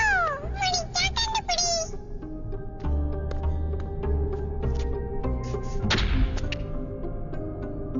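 A kitten in a video game meows repeatedly with rising, wavering cries early on, over a dense, constant game soundtrack with thumps and knocks, followed by a later burst of noise.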